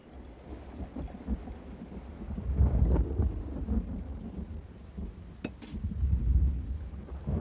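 Thunder rumbles before an unseasonal rain, with deep rolling swells building twice over steady light rain and patter, fairly close and unaccompanied by voices.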